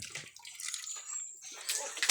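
Water splashing and sloshing as it is poured out, a brief close-up gush with faint background noise.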